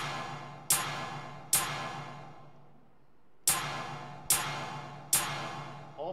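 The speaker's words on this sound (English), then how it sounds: "It's actually just a snare, a hi-hat, and this shaker thing." A sparse, quiet beat of sharp percussive hits, each a layered snare, hi-hat and shaker strike with a fast decay, spaced irregularly.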